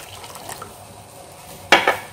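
Flour mixture pours into boiling coconut milk in a pot on the stove, giving a short liquid splash and slosh near the end after a quiet simmering stretch.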